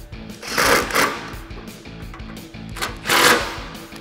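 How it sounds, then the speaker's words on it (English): A 10 mm socket wrench tightens bolts during a cold air intake install on a 2009-2018 RAM 1500 5.7L HEMI, giving rapid close ratcheting clicks in several bursts, the loudest swells near the start and again toward the end. "from here, you just wanna grab your 10 socket and tighten those down."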